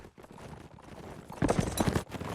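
Horse hooves gallop in a strategy video game, a quick run of clip-clop beats that swells louder in the second half over a steady background of game ambience.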